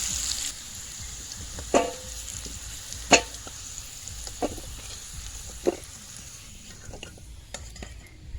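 Potato pieces fry in a pan with turmeric, a low steady sizzle running under scattered sharp clicks and scrapes of a spatula against the metal, close up with no voices.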